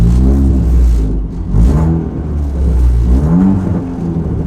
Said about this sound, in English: So if I give it a rev,